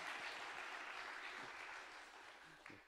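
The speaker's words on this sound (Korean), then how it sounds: "우리 한 번 더 하나님께 박수로 축복 영광 인사 드리겠습니다." Congregation at a Sunday afternoon church worship service applauds together, a soft, distant, even clapping that holds steady for a few seconds before tapering slightly.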